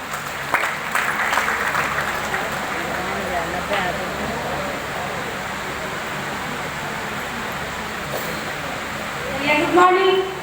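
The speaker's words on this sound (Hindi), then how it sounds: "एक बार फिर से जबरदस्त ताली होना चाहिए" Applause from the audience at a DXN success gathering, a steady wash of many hands clapping that runs through the whole stretch, with speech over it and a brief louder swell near the end.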